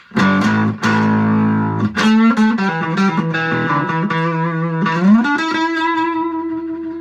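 A distorted cigar box guitar plays sustained, buzzy chords and notes, loud and close, with a few sharp plucked attacks and no voices.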